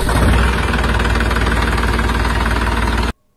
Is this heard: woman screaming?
no